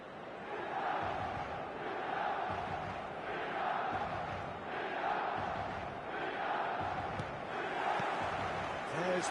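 Stadium crowd in the football video game eFootball, a dense, continuous roar of many voices swelling in waves over the whole stretch, with chanting-like surges and no clear single speaker.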